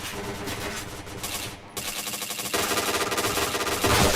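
Gunfire in the Point Blank online shooter comes as dense, continuous bursts of rapid automatic shots, loud and close, getting heavier toward the end with no talking.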